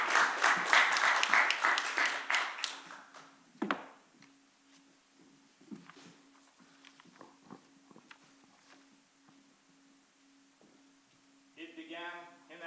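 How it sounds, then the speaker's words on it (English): An audience at a hospital hackathon pitch final applauds a team, a dense burst of clapping for about three seconds that thins into scattered claps, footsteps and a low hum, with a brief voice near the end. "Please come here and applaud this team."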